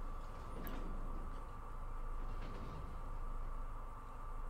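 A train in the Western video game Red Dead Online rolls past with a steady, continuous low rumble and a faint metallic rattle, holding an even level throughout.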